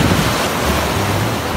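Pacific Ocean surf at Puerto Vallarta, Mexico, sounds as a steady, loud roar of waves and wind buffeting the microphone, with no talking.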